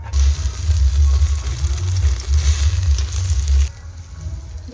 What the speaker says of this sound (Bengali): আজকে পেঁয়াজ দিয়ে আগে ডিমগুলো ভাজবো